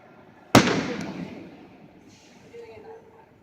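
A single sharp firework bang goes off nearby, its boom trailing off into a rumbling decay, followed by faint crackles.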